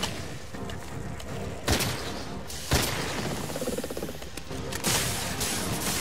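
Slicing ammo fired from a bowgun in Monster Hunter World, a few sharp, loud shots spaced out over a constant rumbling game background.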